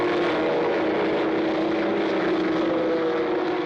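Racing cars in a championship race, among them car 38 closing on a rival with engine trouble, make a steady high engine whine and drone that holds at an even, loud level throughout.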